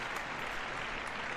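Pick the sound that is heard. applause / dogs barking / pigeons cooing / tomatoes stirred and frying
applause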